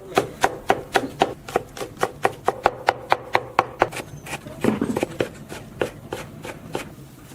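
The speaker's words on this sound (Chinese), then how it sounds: "再切点葱花姜末" Scallions and ginger are chopped with a knife on a board in a quick, even run of crisp close knocks. A brief scraping break follows, then slower chops.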